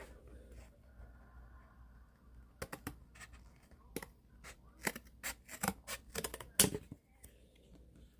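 Cutting pieces off while building a cat hut: a quiet room, then scattered sharp snips and crisp clicks in uneven bursts, close to the microphone and growing busier toward the end.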